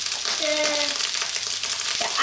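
Bell pepper and garlic fried rice frying in a hot pan: continuous loud sizzling and crackling with scraping stirs, close up, with brief faint tonal clinks of utensils.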